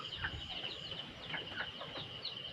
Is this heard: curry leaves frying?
no